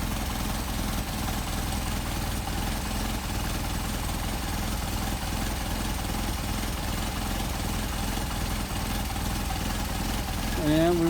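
Engine with twin Solex 44PHH carburetors idling steadily at close range, a constant low rumble throughout, with a slight rise near the end; a voice talks over it.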